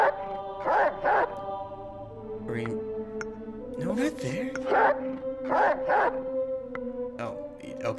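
A dog in the video game Reigns barks and yips in short bursts over a sustained musical drone, with someone talking across the barks.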